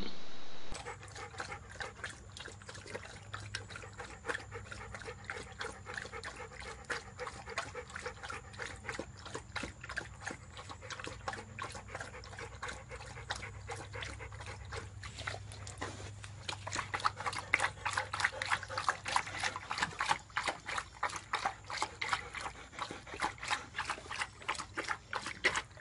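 Two dogs, Scoop and Tucker, lap water from a bowl in quick, rhythmic wet laps that run steadily throughout and grow louder and busier toward the end, with no voices.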